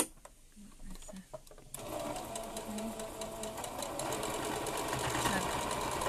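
A sewing machine top stitches around a fabric face mask, starting after a quiet moment and then running in a steady, loud, continuous rattling hum up close. No one speaks.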